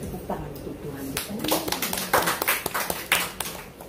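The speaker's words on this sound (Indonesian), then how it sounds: "Tepuk tangan untuk Tuhan kita." A church congregation applauds during an Indonesian worship service, with a burst of hand claps and taps building up irregularly and fairly close, uneven and lively rather than rhythmic.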